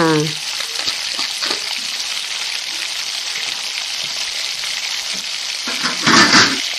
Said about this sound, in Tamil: வெங்காயமாக நல்லா வதங்கிடும் வெங்காயம் வதங்கிடுச்சு